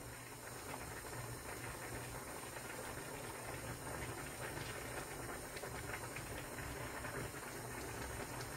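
Korean fish roe stew (altang) bubbles in a pot, a steady close hiss of simmering with a faint crackle throughout and no voices.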